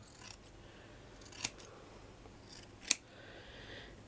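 Scissors trim a doily mat for a shabby chic pin cushion, two crisp, close snips a second or so apart against a quiet room.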